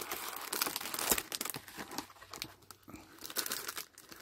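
A taped cardboard package of Halloween diamond painting crafts being opened and unpacked, giving close, continuous crinkling and tearing sounds of plastic and packaging with scattered crisp rustles.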